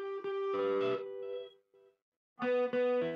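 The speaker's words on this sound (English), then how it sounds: "a quarter note. With the delay, hear it?" Electric guitar through an amplifier with a quarter-note delay plays a short phrase of plucked notes, with a faint echo trailing into a brief gap before another burst of notes.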